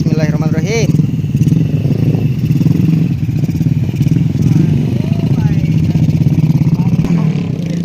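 Many motorcycles idle and pull away together in a village wedding procession convoy of more than twenty bikes and several cars, making a steady, close engine rumble with occasional revving, while someone speaks over it.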